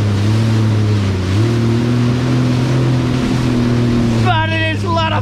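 A jet ski engine drones loud and steady while speeding across Subic Bay, with wind and water rushing around it and a brief shift in engine pitch near the end.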